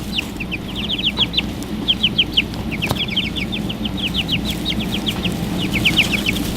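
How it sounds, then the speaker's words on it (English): A dense stream of high, quick peeping from a group of young chicks kept at a home, sounding close, with calls overlapping in rapid bursts over a low, steady background hum. "Chicks are always fun to play with."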